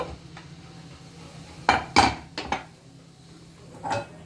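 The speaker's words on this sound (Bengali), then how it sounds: "এবার আমি প্রেসারটা খুললাম।" A metal pressure cooker lid being opened, with a few sharp clanks and knocks close by and quiet pauses between them.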